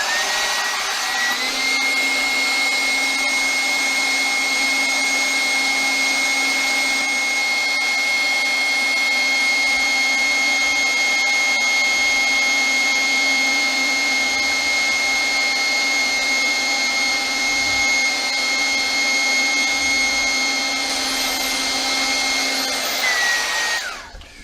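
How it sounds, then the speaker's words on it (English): An old airbed inflator, repurposed as a vacuum, sucks air out of a storage bag stuffed with pillows, a loud steady motor whine droning without a break from start to finish before cutting off. "Repurposing an old airbed inflator to do the job of a vacuum cleaner"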